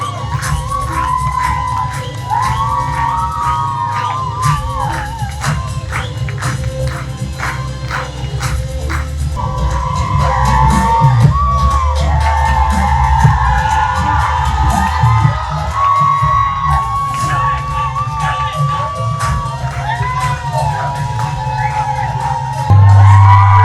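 At a seminar, an audience sustains loud cheering, whooping and shouting with applause, a continuous crowd roar that stays loud throughout.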